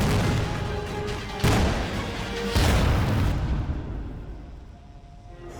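Booming explosions on a Bumblebee movie theme ride, heavy low rumbling blasts in succession with loud crashing bursts, then a decaying roar as the effects subside.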